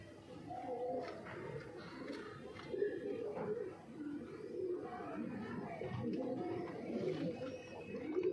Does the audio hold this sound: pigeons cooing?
yes